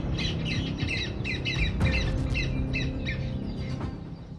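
Several birds squawk in harsh, repeated bursts while attacking a coral snake, the calls coming in quick clustered rhythm over a rough background rumble, with one sharp knock midway.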